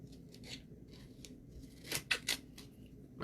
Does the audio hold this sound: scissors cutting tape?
yes